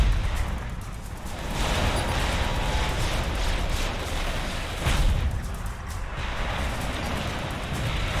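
Dense, continuous battlefield gunfire and booming explosions from a Supreme Commander 2 battle, loud and relentless throughout with heavier blasts near the middle.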